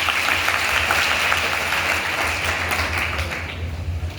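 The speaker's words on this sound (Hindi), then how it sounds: "आप ताली बजाओ।" Audience clapping steadily throughout at a state-level student conference in Ratlam, a dense, continuous applause from a large crowd, close and loud, tapering slightly near the end.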